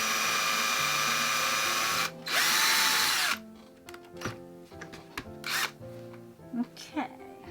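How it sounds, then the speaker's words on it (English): A power drill whirs loudly in two bursts as it drives a screw into wood, then stops and a person talks. "drill the screw in there."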